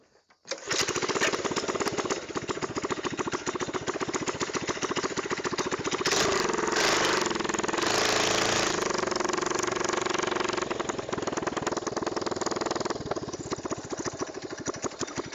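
A carbureted mini bike engine, freshly jetted after a carb swap, starts up and runs steadily through a test drive, a loud continuous buzzing drone with slight rises and dips in pitch and no talking.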